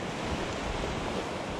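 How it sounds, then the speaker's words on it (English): Winter waves on the Lake Superior shoreline, a steady close wash of surf noise with wind buffeting the microphone, heard alone without any voices. "Look at those waves."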